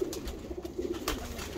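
Racing pigeons in a loft give soft low coos, a few faint murmuring calls close by in a quiet space, with no talking.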